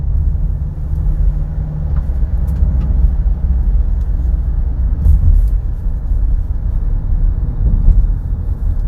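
A 2025 Kia Carnival accelerating gently up an incline, heard from inside the cabin as a steady loud low engine and road rumble that swells slightly midway, with no one talking.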